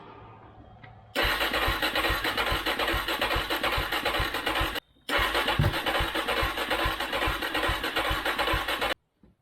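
A 2001 Suzuki DRZ400S motorcycle engine cranks repeatedly on starting fluid with a booster, a fast, rhythmic chugging, briefly pauses, then cranks again without catching, loud and close.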